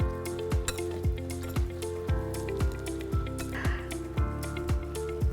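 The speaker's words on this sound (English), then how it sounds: "And we go ahead and we mix it together." Banana oatmeal pancake batter with cinnamon is stirred in a bowl, a steady rhythmic series of wet knocks and soft clinks of a utensil against the bowl, close and moderately quiet.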